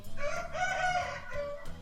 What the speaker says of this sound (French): Et on finira sur le coq.